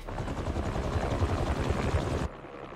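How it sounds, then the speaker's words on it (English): Helicopter blades in the video game Marvel's Spider-Man 2, a loud steady rotor thump and whine filling the clip before cutting off abruptly near the end, with no talk over it. "recording the helicopter blade"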